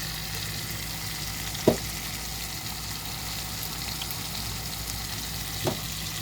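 Food simmering in a pot, seasoned with Accent, gives off a steady, low sizzle and bubbling close by, with two faint clinks marking the background.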